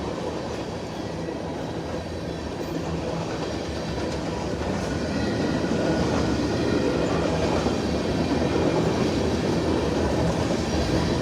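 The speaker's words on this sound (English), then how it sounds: "Comes our tail end of the train" A CSX northbound ethanol freight train on the Henderson Subdivision at Mortons Gap, Kentucky rolls steadily past close by as its tail end goes through, with a continuous loud rumble and rhythmic wheel clatter and no talking.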